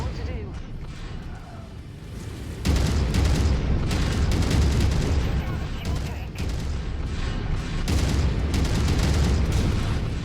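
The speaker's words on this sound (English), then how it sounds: "I keep hearing AC fire coming from somewhere" Autocannon fire in the mech combat game MechWarrior 5, heard as loud, dense, continuous booming bursts and rumbling gunfire that swell sharply partway through and keep going, with a voice talking over the battle.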